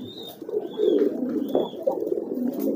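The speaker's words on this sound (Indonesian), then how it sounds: "merpati saya ini masih sangat piyikan ya" Soft, low cooing of a young pigeon squab repeats close by, with faint higher chirps in the background.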